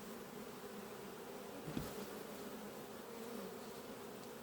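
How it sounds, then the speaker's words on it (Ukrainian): Honeybees at a small colony preparing to swarm buzz in a soft, continuous hum, fairly quiet and even, with one brief knock partway through. "Дві жмені бджоли, а вже хоче роїтися"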